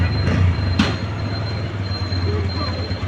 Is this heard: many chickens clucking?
no